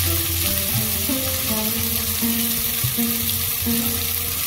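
Onions that were fried red sizzle steadily in hot oil as chopped tomato and green chilli go into the pan for a Bengali glass-cup fish kalia, with a continuous loud frying hiss and soft background music.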